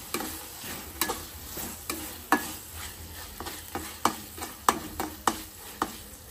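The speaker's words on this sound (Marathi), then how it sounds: "कोथिंबीर टाकून परत एकदा मिक्स करून घेते" Fresh coriander is stirred into a boiled-egg gravy in a pan, giving a run of crisp, roughly regular spatula taps and scrapes over a soft, continuous sizzle, close up and with no talking.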